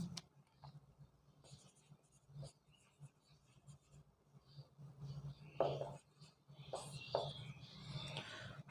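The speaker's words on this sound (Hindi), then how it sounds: "अब देखिए यहाँ पर हम लोग कंक्लूजन लिखते हैं।" A marker or chalk scratches out a conclusion on a classroom board during a reasoning lecture, producing short, intermittent scratchy strokes with brief pauses between them, close and fairly faint.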